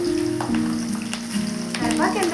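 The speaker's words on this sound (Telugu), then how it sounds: "కొద్దిగా కరివేపాకు వేస్తున్నాను, ఒక 2 రెమ్మలు వేస్తున్నాను" Curry leaves sizzling in hot oil while cooking an eggplant curry, a steady close crackling fry with brief spitting pops and a low hum in the background.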